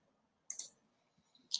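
A computer mouse clicks on an OK button in Microsoft Access: two quiet, sharp clicks about a second apart against near silence.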